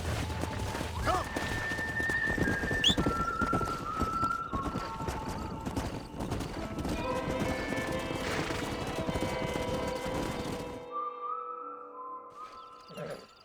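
Horse hooves clip-clop and a horse neighs in the video game Red Dead Redemption, steady hoofbeats running under game music and ambience, fading near the end into sustained tones.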